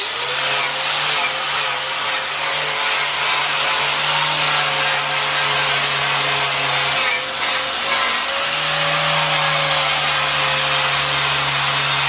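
Angle grinder with a strip disc scouring paint and flaky rust off an HJ47 swivel hub knuckle, a loud continuous abrasive whine with steady motor drone for twelve seconds, close and unbroken.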